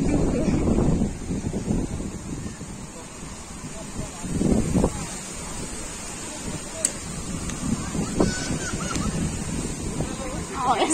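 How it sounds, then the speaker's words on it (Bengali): Strong wind gusts buffet the microphone at an outdoor market, producing loud rumbling bursts that rise and fall, with faint honks and background voices mixed in. "দেখছো তো কেমন জোরে হাওয়া হচ্ছে।"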